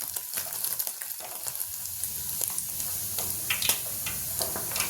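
Paneer pieces sizzle and crackle in hot oil in a pan, a steady close frying hiss with scattered pops and small clinks throughout.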